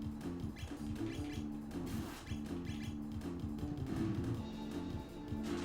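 Birds chirp in Chrono Trigger, a steady run of tweeting calls repeating over a constant game music background throughout.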